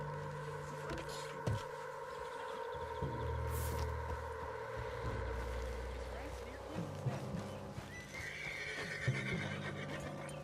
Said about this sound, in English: What's got this horse spook, huh?